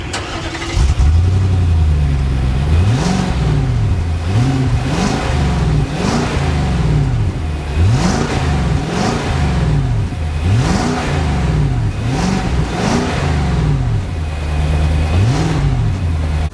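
A 2018 Infiniti QX80 SUV's engine drones steadily while driving, its pitch rising and falling in repeated waves as it accelerates and shifts, loud and close throughout without any talking.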